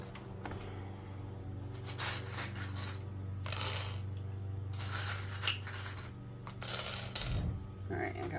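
Sewing clips being taken out and handled during a tote bag sew-along, giving bursts of small hard plastic clicks and rattles that come and go in clusters over a low steady hum.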